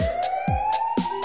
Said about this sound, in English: It's a siren, that's what it is.